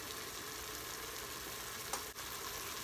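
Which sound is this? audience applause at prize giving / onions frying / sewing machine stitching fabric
onions frying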